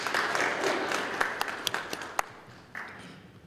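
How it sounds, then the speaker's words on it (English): Audience applause for party representatives at a youth parliament sitting, a moderate spread of clapping with a few sharper individual claps that tapers off toward the end. "let's give them a round of applause again"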